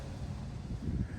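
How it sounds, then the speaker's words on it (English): A low, steady rumble of wind buffets the microphone, constant and fairly soft. "Excuse the wind in the background."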